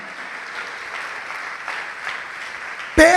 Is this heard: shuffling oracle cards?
no